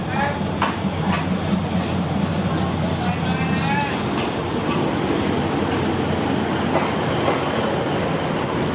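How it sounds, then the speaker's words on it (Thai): A diesel railcar train rumbles steadily into Hua Lamphong station at close range, with clacking wheels and occasional metallic squeals, loud and continuous throughout. "ก็มีรถไฟมาหนึ่งขบวนครับ"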